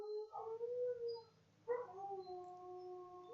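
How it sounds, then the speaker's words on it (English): Neighbor's dogs howling and yelping in two long, wavering bursts, fairly close and loud over a low steady hum, with a brief lull between them. "We're going to tell the neighbor's dogs to shut up."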